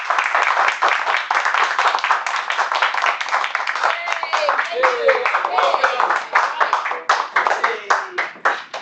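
A Toastmasters club audience gives a round of applause, dense close clapping of a modest group that carries on steadily for several seconds, with faint voices underneath toward the end.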